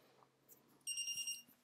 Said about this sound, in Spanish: Hace pitido, es decir, se vuelve a reiniciar y ya aparece el menú de testeo.